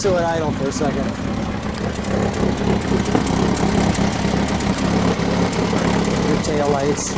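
A 1973 Chevrolet Vega engine idles steadily with a low, even rumble throughout, some voices and background noise faintly mixed in.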